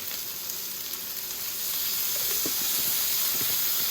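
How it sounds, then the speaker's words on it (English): Garlic sizzling in a hot pan with browning chicken for General Tso chicken, a steady frying hiss that grows slightly louder halfway through, with a few small pops and crackles and no talking. "now I'm going to add a little garlic"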